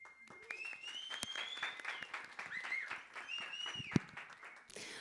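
Audience applause at a music-market panel in São Paulo, soft scattered clapping from a small crowd underneath someone speaking, with whistle-like tones drifting above.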